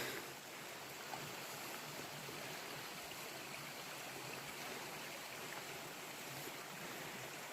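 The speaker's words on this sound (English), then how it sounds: "Got some little water going on down here" Faint, continuous rush of a small stream flowing along a hiking trail through a grove of ponderosa pines, a soft steady trickle and hiss with no voices over it.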